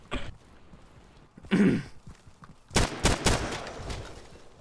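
Friendly fire in the tactical shooter Insurgency: scattered gunshots, a brief single crack, a louder burst, then a quick volley of several close shots, separated by quiet stretches and faint noises.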